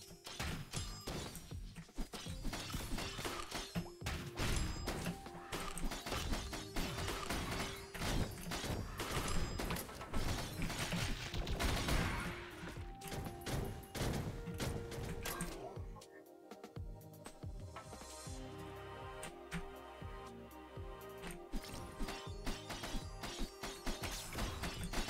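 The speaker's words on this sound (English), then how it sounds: "Sir, if you could stop firing missiles at me for 1 second" Enemy missiles firing in the Risk of Rain Returns game, a dense, continuous barrage of rapid clattering launches and mechanical crashes. It keeps going for about 25 seconds and eases off briefly midway before resuming.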